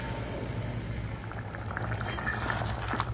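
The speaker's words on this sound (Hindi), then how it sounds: "तो देखो मैंने इसमें ना इतना पानी डाल रही हूँ" Water goes into a pan of frying jackfruit curry, giving a steady, even hiss and simmering bubble that holds at a low level throughout.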